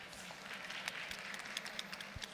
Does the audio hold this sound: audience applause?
yes